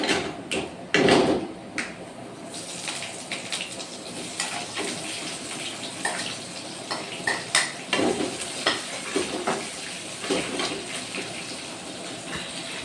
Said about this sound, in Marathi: मग आता कांदा सोडणार आहे.